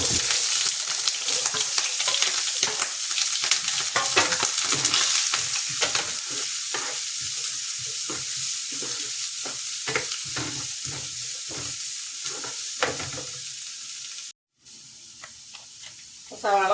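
Onion frying in coconut oil in a pan, a loud continuous close sizzle with intermittent stirring scrapes throughout, briefly cutting out near the end.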